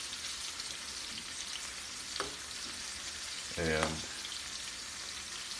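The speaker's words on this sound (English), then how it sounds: "so we've been cooking these shrimp. They've been in the pan probably now about 4 minutes" Shrimp frying in a pan with olive oil and garlic give a steady, soft sizzle throughout, with a brief scrape of stirring midway and a short spoken word near the end.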